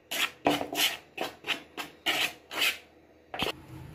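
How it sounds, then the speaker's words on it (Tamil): Hands mix ragi flour with salt and chili for vadai dough, a series of about ten close, rhythmic rubbing strokes with short gaps and no talking. "இப்போ இதை வந்து கொஞ்சம் நல்லா மிக்ஸ் பண்ணிக்கலாம்."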